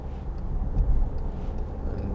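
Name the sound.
Volkswagen Tiguan 2.0 TDI car accelerating to overtake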